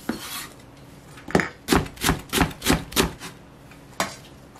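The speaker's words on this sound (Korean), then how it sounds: "그래서 잘게 썰어 주겠습니다." A knife finely chops chives on a board for cucumber kimchi, a series of about seven crisp, evenly spaced cuts in the middle, with a few scattered taps before and one after, close and clear with no talk.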